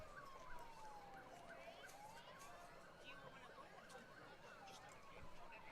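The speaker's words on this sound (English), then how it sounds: "As I hear the sirens coming up the parkway" Emergency sirens on parade vehicles approach up a parkway during a Christmas parade in Moody, Alabama, a faint wailing tone sweeping up and down through distant crowd murmur and background noise.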